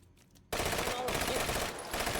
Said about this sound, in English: picked up a MX4 submachine gun there. That one shoots so fast.